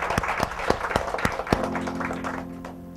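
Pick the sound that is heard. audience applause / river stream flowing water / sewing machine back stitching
audience applause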